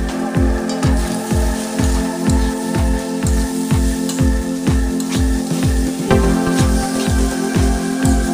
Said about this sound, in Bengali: এরপরে আমি অল্প জল দিয়ে ভালো করে কষিয়ে নেব।